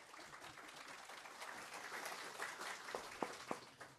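Quiet applause from the audience at a judicial electoral court workshop, a faint patter of clapping heard from a distance, with a few sharper claps toward the end.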